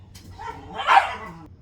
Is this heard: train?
no